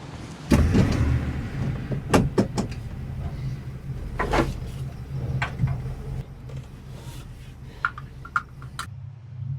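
A camper rig is locked up, with a whirring power window motor, a door thudding shut and several quick clicks and clunks, close by, with no talk.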